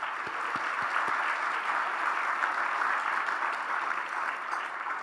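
Steady, fairly distant applause fills a large room at an education award ceremony, an even wash of clapping from a sizable audience lasting several seconds.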